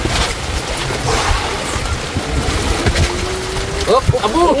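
Sea waves slosh and slap against a boat hull at sea, with wind buffeting the microphone and people talking and shouting nearby toward the end.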